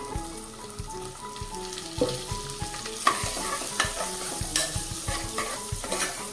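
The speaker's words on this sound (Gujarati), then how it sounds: "જેવી ચટણી મિક્સ થઈ જાય ને એટલે આપણે ગુવાર નાખી દઈએ." Cluster beans go into a frying chutney masala and are stirred in a pan, giving a steady sizzle under repeated spoon scrapes and clinks, close and with no voices.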